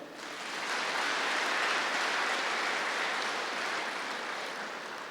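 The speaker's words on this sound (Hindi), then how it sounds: "इसलिए ताली बजाओ।" An audience claps continuously throughout at a religious spiritual discourse gathering, a dense, steady wash of applause that swells early and holds level before easing slightly at the end.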